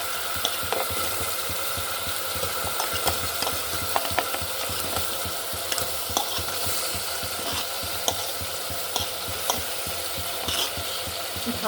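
Cauliflower frying in a pan, a steady loud sizzle with frequent scraping and clinking as it is stirred, with no talking.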